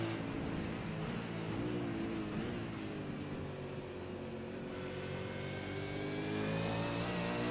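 A racing car engine in a sim racing esports event revs hard and continuously, climbing through gears with rising whining tones and a brief dip between shifts, loud and up close with no voices.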